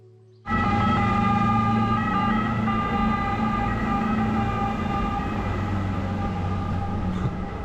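A loud water police boat siren in Venice starts abruptly and blares continuously at close range, holding steady tones with no speech.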